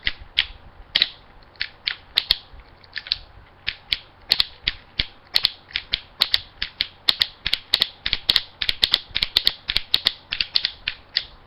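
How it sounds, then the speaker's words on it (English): Ratcheted toe joints on a Gosei Ultimate Megazord plastic toy click repeatedly, dozens of crisp close-up clicks in quick irregular bursts with no voices. "his last point of articulation is ratcheted toes"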